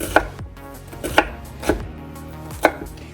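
A knife slices down through half a small onion on a cutting board, four sharp chops spaced unevenly, close and distinct with no voices.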